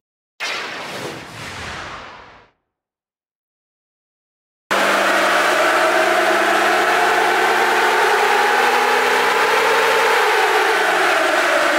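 A car engine running hard on a dyno with a Safari Armax ECU fitted, a loud sustained roar with steady layered tones after a short burst of noise and a few seconds of silence.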